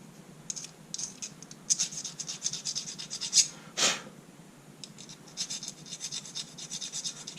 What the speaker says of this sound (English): I just took the file here and just filed it down the edge